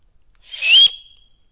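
A loud human whistle call in the woods at dusk, a single rising, piercing note lasting about half a second, clear and alone against a quiet background.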